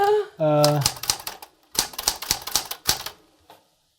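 Fingers tap a keyboard in quick bursts of clicks, close and crisp, typing a Google search, with a person speaking briefly just before the keystrokes start.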